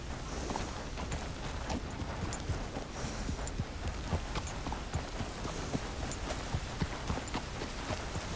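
Horse hooves clip-clop steadily at a walk in Red Dead Redemption 2, an Ardennes draft horse plodding in an even rhythm over a faint outdoor ambience.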